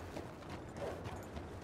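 Horse hooves clip-clop at a steady pace in Red Dead Redemption II, a faint rhythmic patter under low ambient noise.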